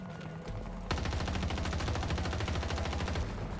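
Rapid automatic M16A3 rifle fire in the video game Battlefield 2042, a dense unbroken stream of fast shots, loud and close, following a short quieter lead-in.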